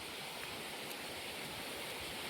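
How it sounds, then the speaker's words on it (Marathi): A monsoon waterfall spills into a farm field in the Sahyadri hills, a steady, even rush of falling water heard on its own from a short distance. "हा आहे आपल्या वावरातला धबधबा"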